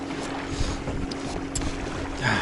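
Wind buffets the microphone on a boat, a continuous rough rumble with gusty swells and no speech.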